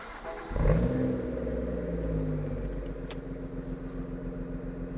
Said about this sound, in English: Okay, so B58 cold start.